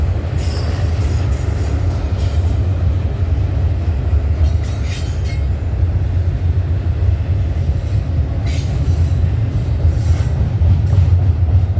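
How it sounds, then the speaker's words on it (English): A freight train passes trackside at night with a sustained heavy rumble, faint wheel squeal and clatter running throughout, and no speech. "This is another mystery train."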